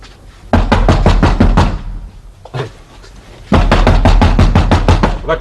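Police pounding on a door in a classic Pakistani TV drama, loud rapid bursts of heavy knocks in two runs separated by a short pause with a single thud.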